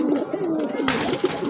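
A pair of Allahabadi Chini Kaldama pigeons cooing close by, a soft, rolling, throaty coo that rises and falls, followed by a brief rustle.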